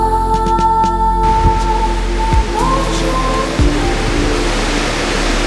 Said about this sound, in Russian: Тут какие-то водопады льются.